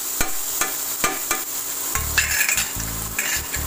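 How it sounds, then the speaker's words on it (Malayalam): Carrots for Afghani chicken biryani fry in a hot pan, a steady sizzle broken by a series of close scraping stirs and light clinks of a utensil against the metal. "ക്യാരറ്റ് നന്നായി ഫ്രൈ ആവണം"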